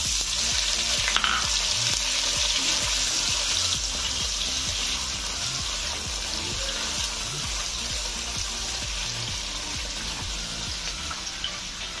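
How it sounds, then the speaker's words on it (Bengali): Paneer pieces fry in hot oil with a spoon of ghee, giving a loud, dense, continuous sizzle close by with faint scraping, and nobody talks. "তেল গরম হয়ে গেছে, আমি পনিরগুলো আগে ভেজে নেব"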